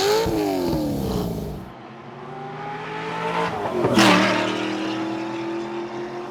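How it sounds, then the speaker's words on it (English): A car with a custom-built exhaust revs alone, dropping from a loud drone to a lower idle, then blipping sharply to a brassy peak around the middle before settling into a steady rumble. "And after OJ did his awesome exhaust, which sounds like this."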